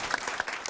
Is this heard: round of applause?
yes